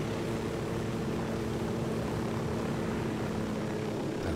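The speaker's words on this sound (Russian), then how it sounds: "Пронесемся на вертолете, как птичка." A helicopter in flight in the video game Ghost Recon Wildlands, a steady droning rotor and engine roar that holds at an even level throughout, with no talking over it.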